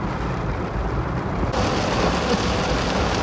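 Heavy rain pours steadily as a dense, continuous hiss, loud and close, with no voices.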